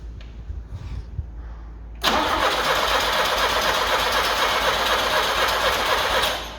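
An Iveco Daily van engine cranks and turns over while trying to start, with a steady loud churning roar that holds for about four seconds after a quieter opening of low rumble and faint background noise.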